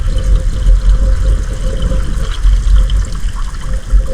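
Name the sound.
filtered water being poured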